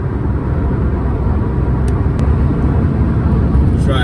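An old cheap pickup truck cruising at about 72 mph up a gentle highway incline on light throttle, a loud steady low engine and road rumble with wind noise inside the cab.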